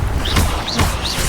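Levioso levitation spell cast in the Hogwarts Legacy video game: three repeated swooshing, chiming sweeps, each with a soft low thump, over a steady game background.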